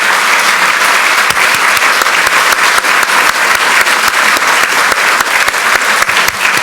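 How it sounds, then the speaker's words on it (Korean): Loud, dense applause from a roomful of lawmakers at a party assembly runs continuously, many hands clapping close together at full volume without a break. "박수를 좀 부탁드리겠습니다."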